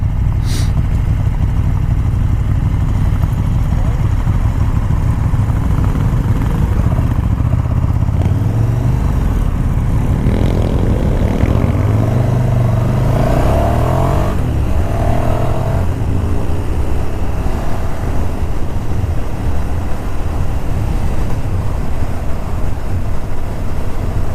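A KTM 1290 Super Duke R sport bike engine runs loud and close throughout, a steady low rumble with rising rev sweeps around the middle, no voices.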